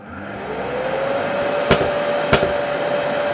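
A Mirka 1230 L AFC construction vacuum cleaner spins up and runs with a loud, steady whine and rushing airflow, broken by two sharp bursts of automatic filter cleaning, with no voices over it.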